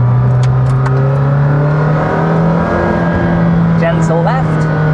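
McLaren Senna engine droning steadily from inside the cabin while driving, a loud continuous hum that fills the whole stretch, with speech-like sounds over it near the end.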